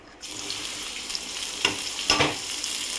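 Two large onions sizzle in hot oil with a steady, hissing fry, broken by a couple of sharper crackles and stirring scrapes, with no voices.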